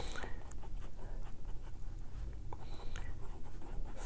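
A German fountain pen with a wide nib scratching across paper in short, quick strokes, close and fairly faint over a low background rumble.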